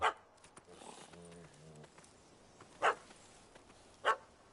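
A dog barks in The Witcher 3, three short, sharp barks spaced apart at moderate distance, with a faint murmur of voices and game sounds between them.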